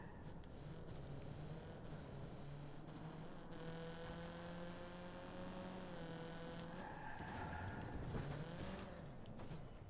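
A fast car in the Watch Dogs 2 video game speeds along with a continuous engine drone that rises and falls as it shifts, with tire skids and squeals, loud and close with no talk.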